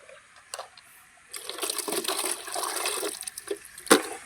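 Water gurgles and splashes as it is poured out of a plastic bottle holding small river-caught fish, a steady close pour running for a few seconds with a brief splash near the end.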